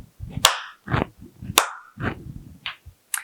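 Three sharp hand claps ring out alone, spaced roughly a second apart, with softer thuds and rustles between them.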